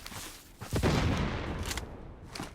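Gunfire in the shooter game Blood Strike: a short burst of booming shots that swells near the middle and then fades into a dense rumbling tail, loud and close with no talk over it.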